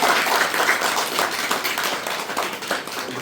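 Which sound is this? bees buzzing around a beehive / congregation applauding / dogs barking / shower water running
congregation applauding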